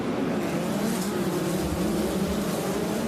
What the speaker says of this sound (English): The mighty midget scream to life.